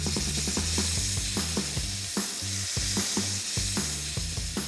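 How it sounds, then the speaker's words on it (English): Bacon sizzles loudly in a pan while being flipped, a dense crackling hiss broken by repeated scraping clicks of a utensil against the pan, close up and without talk. "let me flip my bacon"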